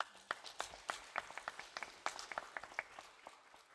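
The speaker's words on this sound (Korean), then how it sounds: "하나님께 영광의 박수 한번 돌려보세요." A church congregation claps for God's glory during a Sunday sermon, scattered and fairly faint hand claps heard from a distance in a hall, uneven and brief.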